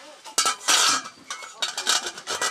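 Fried potatoes are picked one by one out of a pan, making a few close, scraping clinks of a utensil against the metal with short bursts of sizzling between them.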